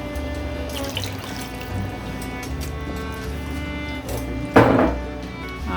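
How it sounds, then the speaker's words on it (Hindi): Water streams from a jug into a cooking pot while making palak gosht, a steady close pour with a brief louder splash near the end and no talking. "तकरीबन आधा जग जो है वो पानी आप इसमें ऐड कर दें स्लोली"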